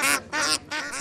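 Domestic ducks at Bagan Bazar, a bird market in Sylhet, give three loud, raspy quacks in quick succession, close by and separated by short gaps.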